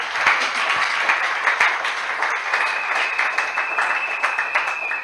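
A church congregation claps and applauds, a dense, steady patter of many hands filling the room for several seconds with no pause.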